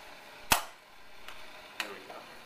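A ballistics cart launching a ball in a classroom physics demo, one sharp loud snap followed by two fainter clicks, close and with no voices.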